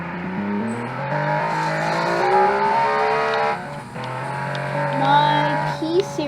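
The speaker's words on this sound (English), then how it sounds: "I should have braked earlier, but I just wanted to rev it." A rally car engine is held at very high revs, around 9,000, in a small island rally. It is a loud, steady, buzzing drone with slight pitch shifts and brief dips near the middle and end.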